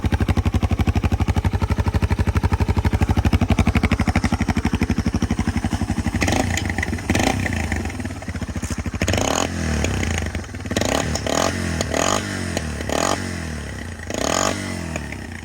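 A Yamaha Serow 225 motorcycle engine idles with a rapid, throaty exhaust putter, then revs sharply several times in loud, rising bursts close by.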